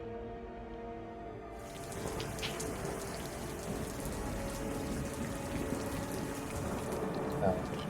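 Stormy rain ambience playing as background music for an online Dungeons & Dragons tabletop session, a dense steady downpour hiss that swells in after a quieter opening and continues evenly, with a faint rumble beneath.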